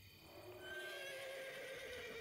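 A horse neighs in a single loud, drawn-out whinny as a roleplay sound effect, heard alone and close, with no talk over it.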